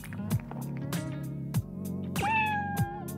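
A cartoon cat in the video game Dave the Diver meows in a long drawn-out cry over looping game music with rhythmic bumps, close and clear.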